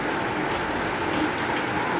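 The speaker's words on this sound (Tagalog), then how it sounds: "Sige ulan guys, hindi ni makalakaw." Steady rain falling outdoors, a dense continuous patter and hiss at fairly loud level, with no talk.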